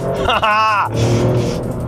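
A Maserati Grecale Trofeo's engine and exhaust blare out in a loud rising rev with a rasping, harmonic-rich roar, then settle to a lower rumble, with a voice heard alongside.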